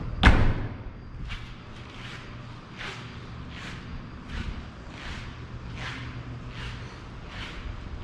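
The trunk lid of a 2018 Volkswagen Golf GTI Autobahn shuts with a single solid thud at the start, followed by a quiet run of evenly spaced footsteps moving around the car, with no talking.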